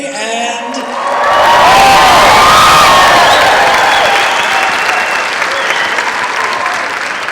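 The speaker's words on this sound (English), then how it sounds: "Let's move our C+ cheer up to an A." Graduation audience bursts into loud applause and cheering with whoops, swelling after the first second and holding steady through the end, with some voices shouting over the clapping.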